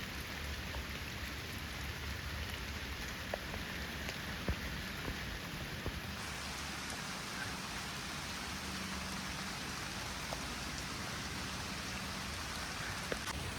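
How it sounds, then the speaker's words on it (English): Heavy rain falls steadily on a muddy hiking trail through wetlands near Latrobe, Pennsylvania, a dense, even hiss of drops with no voices and no letup. "Rain's still coming down pretty hard here."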